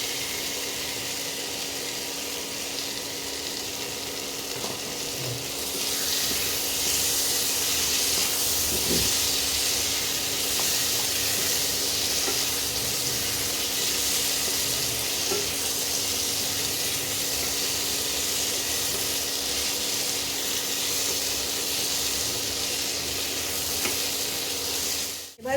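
Fried potato pieces go into sizzling, well-browned minced meat in a pan for keema ghugni, a steady loud hiss and crackle of frying that swells slightly and runs on alone without talk.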